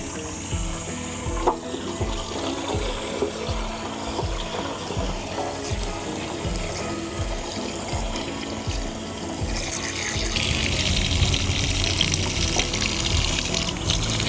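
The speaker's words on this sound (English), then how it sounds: "basically I'm just gonna flush it out with water" Water rushing steadily through an old motorcycle gas tank that sat unused for over six years, a continuous splashing wash with rhythmic low thumps, growing fuller and brighter toward the end.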